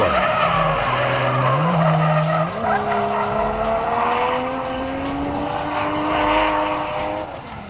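A 1989 Nissan 240SX drift car slides around a track with loud sustained tire squeal over a high-revving engine whose pitch rises and falls through the run, close and continuous for several seconds.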